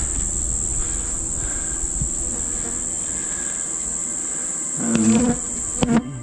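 Honey bees buzz at an open hive in a steady hum throughout, close and continuous, with a few louder buzzing passes near the end.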